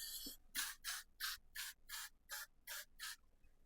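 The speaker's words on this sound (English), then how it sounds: "I'm going to take this freeze spray and I'm going to spray it right where I added the product." Quick hissing bursts of hair freeze spray repeat in an even rhythm, about nine short puffs in a row, fairly soft and close.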